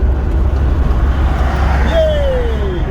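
A Rover 25 car overtakes on the road, its engine and tyre noise rising as it draws alongside, with a rising whine near the end as it pulls past.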